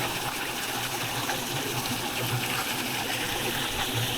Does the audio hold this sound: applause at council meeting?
no